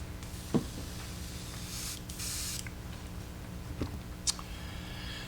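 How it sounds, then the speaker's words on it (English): An airbrush being rinsed out hisses in a steady, close spray with a few short clicks and louder bursts partway through. "Rinse the airbrush out just real quick."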